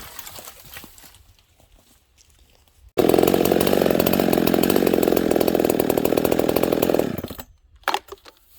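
A ported Husqvarna 266SE chainsaw kicks in after a quiet start and runs loud and steady for about four seconds, then drops away, with a brief blip of engine noise near the end.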